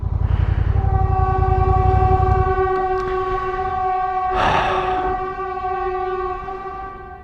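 A train horn blares loudly and holds its chord while the heavy rumble of a passing train fades, with a rush of noise midway.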